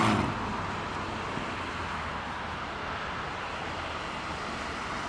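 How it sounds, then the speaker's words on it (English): Airliner geared turbofan (GTF) engine at Heathrow Airport, a steady broadband roar holding at an even, fairly loud level for the whole stretch without pause. "The howl of the GTF."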